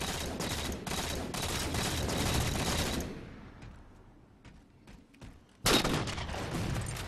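In a Call of Duty-style shooter, gunfire crackles in dense, rapid bursts for about three seconds, then falls to scattered quieter shots before a sharp, loud volley erupts near the end.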